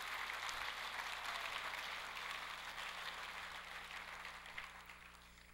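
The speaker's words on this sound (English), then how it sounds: "how about another round of applause for my co-MC, Craig, the Coach Fooey." Applause fills a room at an annual scholar-athlete awards banquet, a steady wash of many hands clapping that carries on for several seconds and slowly fades, with no talking over it.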